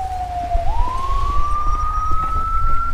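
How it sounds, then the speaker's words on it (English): A single ambulance siren in the video game LSPDFR wails steadily, its tone dipping then rising into a long, climbing whine over low rumbling engine noise. "I hear an ambulance."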